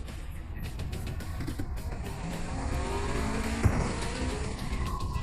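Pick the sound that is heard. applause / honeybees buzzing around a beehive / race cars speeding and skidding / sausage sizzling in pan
race cars speeding and skidding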